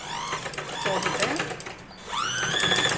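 Sewing machine running a back stitch on the back part of a blouse, a fast close whirring stitch rhythm that pauses briefly and resumes, with a voice talking over it.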